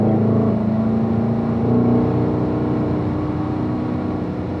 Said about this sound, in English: Let's squeeze that throttle like we're getting on the freeway, up through the gears